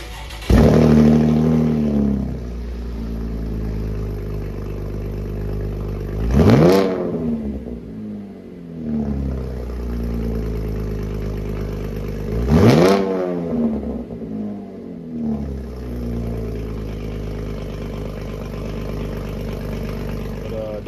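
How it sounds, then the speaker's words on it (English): A car engine starts cold and is revved three times, each rev climbing sharply and falling back to a loud, rumbling idle. The engine is close and runs for the whole stretch, with no talking over it. "I'ma get y'all a cold start real quick."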